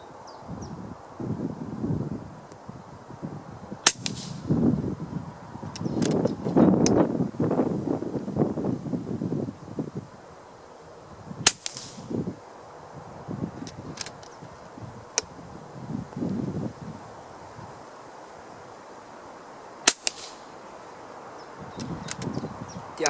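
FX Crown MKII air rifle firing Diablo pellets outdoors, a few sharp cracks spaced several seconds apart over wind noise and rustling, with no talking.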